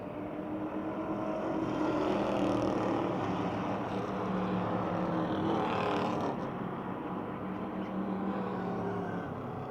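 Stock cars race around an oval speedway, a dense, continuous roar of several engines that swells and fades slightly as the pack passes, heard from a distance.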